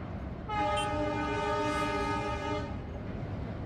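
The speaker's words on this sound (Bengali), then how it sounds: "এরই মধ্যে হুইসেল বাজিয়ে ট্রেন চলে এসেছে সেতুর ওপরে।" A train on the century-old Hardinge Bridge blows a long, loud, steady whistle lasting about two seconds over a low rumble of the moving train.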